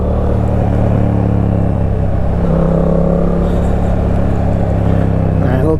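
A motorcycle engine downshifts during a rainy ride, a loud, steady, close rumble with shifting engine pitch and constant wind roar throughout.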